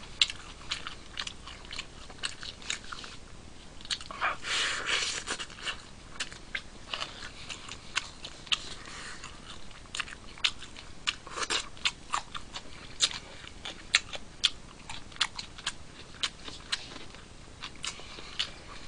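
Hwatong fried chicken being eaten with rice: repeated close crunchy bites and wet chewing, crackly crisp snaps in irregular bursts over nearly twenty seconds, with no talking.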